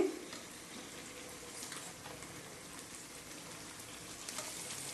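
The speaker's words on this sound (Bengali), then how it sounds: "এবার এই যে মাংসগুলো দিয়ে দিচ্ছি" Meat going into hot spiced oil in a pan, giving a soft continuous sizzle and crackle that starts with a brief louder burst and then stays steady and fairly quiet.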